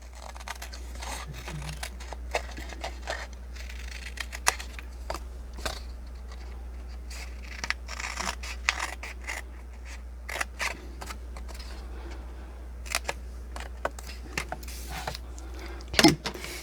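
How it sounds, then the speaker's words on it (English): Scissors snip through paper along a pencil line while a flower-pot treat holder is cut out, a run of short, crisp cuts in irregular bursts, close and fairly quiet over a low steady hum. "I'm cutting this side of the pencil line"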